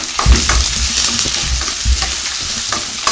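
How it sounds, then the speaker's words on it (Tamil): Onions for a spicy Chettinad chutney sauté on a medium flame in a pan, crackling and sizzling loudly up close while a spoon stirs and scrapes with a few knocks, and nobody speaks. "வெங்காயம் வதங்கட்டும். மீடியம் ஃப்ளேம் வச்சுக்கலாம்."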